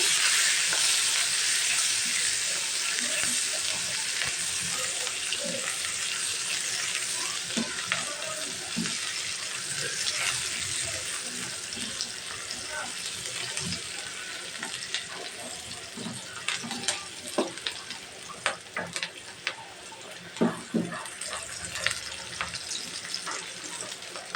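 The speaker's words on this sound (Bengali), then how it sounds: "এখন ওই তেলে আমি পেঁয়াজের কুচিটা দিয়ে দিচ্ছি" Chopped onions, about half a cup, hit oil left from frying fish and hiss loudly at first, easing into a steadier sizzle broken by occasional stirring clicks near the end.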